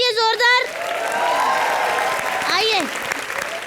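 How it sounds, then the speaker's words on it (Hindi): Loud studio audience applause on a live comedy show, clapping steadily for a few seconds under a host's voice and cheering. "चलो तालियां बजाओ इसके लिए जोरदार"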